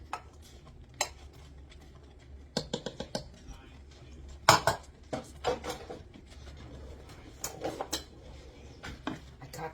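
A thick, heavy spoon clatters and scrapes in a pan of browning sausage, with scattered sharp metallic knocks at irregular intervals over a quiet kitchen background.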